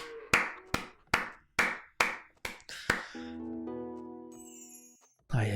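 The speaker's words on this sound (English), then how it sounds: "Clap, guys." About eight sharp, separate claps in a quick, uneven run during a live esports match broadcast, fading out and giving way to a sustained ringing chime.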